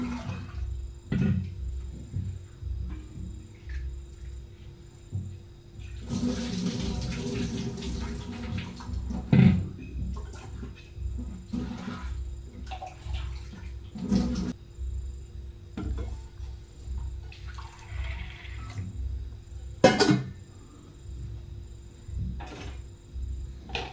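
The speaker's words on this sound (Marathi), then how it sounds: "आता याला 2-3 पाण्याने स्वच्छ धुवून घेते" Soaked lentils (dal) are washed in water, with continuous sloshing and swirling, a stretch of louder pouring and a few clinks of the vessel, steady and close.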